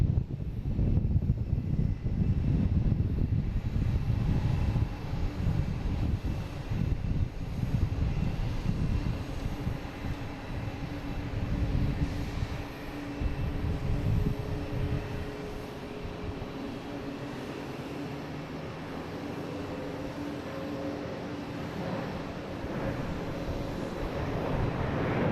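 A Virgin Atlantic airliner at Boston Logan International Airport makes a broad, steady jet engine roar that stays loud throughout, then eases slightly toward the end.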